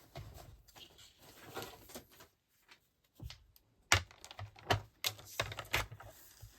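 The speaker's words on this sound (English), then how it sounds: "get my paper trimmer" A paper trimmer slices card stock for a Christmas card, with a few sharp clicks and scraping slides of the blade in quick bursts, close and fairly quiet, separated by brief silences.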